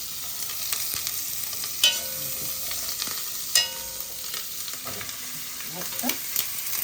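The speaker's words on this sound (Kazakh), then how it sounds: "жуанымызды осы сливочный маслода қуырамыз." Steady sizzling of onions frying in butter in a pan, with occasional scrapes and clinks of stirring; no voices.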